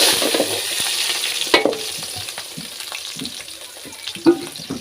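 Chopped onions frying in hot oil with mustard seeds, a close, continuous sizzle broken by intermittent stirring scrapes and a few louder clinks, with no talking.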